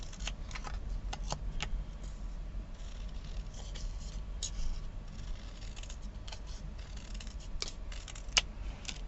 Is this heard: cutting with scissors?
yes